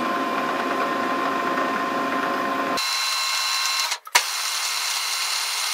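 A drill bores a 4.2 mm hole for tapping while repairing a vacuum cleaner wheel, making a steady mechanical whir that shifts in tone partway through, with a brief dip before it resumes.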